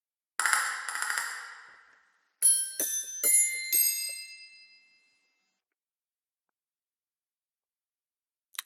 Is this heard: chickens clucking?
no